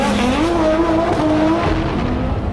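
An Audi RS3 LMS race car engine howls loudly and close, its pitch climbing and stepping through gear changes in a sustained, aggressive roar, with no voices.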